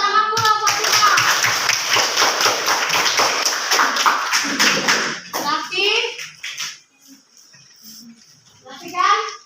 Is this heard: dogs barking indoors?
no